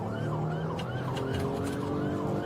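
An ambulance siren wails in a steady, continuous rising-and-falling sweep, loud and close, with a second siren tone layered underneath and no talking.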